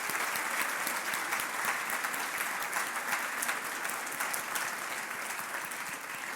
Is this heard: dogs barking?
no